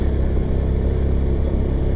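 A large motorcycle rides a road toward Bukit Jamur in Ciwidey, its engine and exhaust giving a loud, continuous low rumble with a steady throbbing pulse, close and unbroken throughout.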